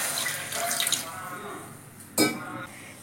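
Water pours steadily into a heavy-bottomed cooking pan for a few seconds, then a brief louder splash or clatter sounds near the end, fairly close and moderately loud.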